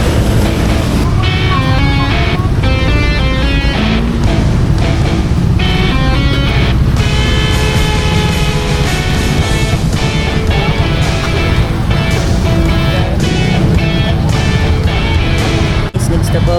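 Heavy rain hammering down during a solo motorcycle ride to Mabitac, Laguna, a dense, loud, continuous wash of noise with someone talking over it.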